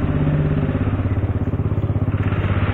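A motorcycle engine chugs loudly at close range in a narrow Jakarta alley, its pulsing idle-like throb steady and rhythmic throughout.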